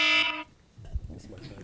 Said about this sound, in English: Sorry for that horrible timer.